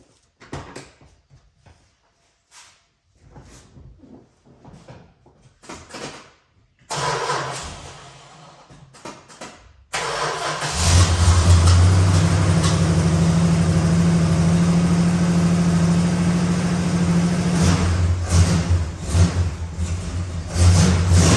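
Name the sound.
Dodge 383 Magnum engine starting and running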